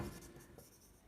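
Chalk or marker writing on a board during a lecture on growth and development, a brief faint scratching stroke lasting about a second, recorded at a distance with no talking over it.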